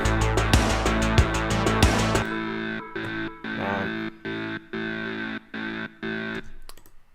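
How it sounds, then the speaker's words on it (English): A distorted, effected Thor synth plays over drums, then drops to a choppy gated synth pattern in short rhythmic bursts with no vocals. "in that verse we get a little Thor synth"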